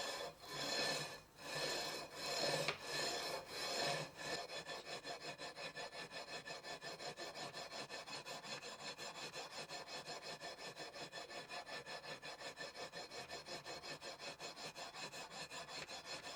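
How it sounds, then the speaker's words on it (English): A leveling beam faced with 220 grit sandpaper rasps across guitar frets on a custom T-type guitar build, starting with a few slower, heavier strokes, then settling into a quick, even back-and-forth scraping rhythm, close and alone. "now I'm going to begin leveling them using a leveling beam. This one's got some 220 grit sandpaper on it."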